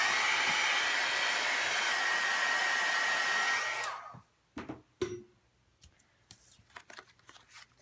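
A hair dryer blowing on a mixed media index card makes a steady, close roar for about four seconds, then shuts off, followed by scattered handling clicks and taps.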